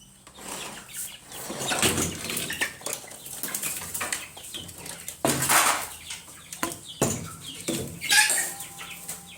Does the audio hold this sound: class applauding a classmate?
no